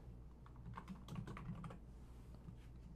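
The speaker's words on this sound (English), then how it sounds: "I guess I'll just try typing that in." Quick clusters of keystrokes clatter on a computer keyboard, close by and fairly quiet, tapering off after a couple of seconds.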